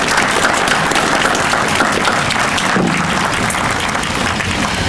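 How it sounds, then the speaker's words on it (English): Sustained audience applause at a Veterans Day presentation, a dense steady wash of clapping that holds at an even, loud level throughout. "One more applause for both of them."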